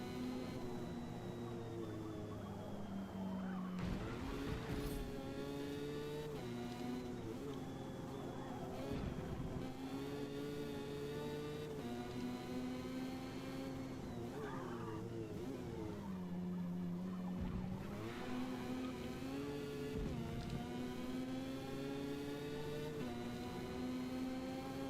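Mazda RX-7 race car in Forza Motorsport, engine droning steadily with repeated sharp gear shifts and short tire skids breaking in, close and constant throughout.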